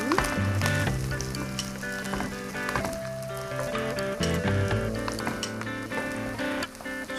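Curry leaves frying with onions in a hot pan, a dense continuous sizzle heard close up, with background music running underneath and no talking.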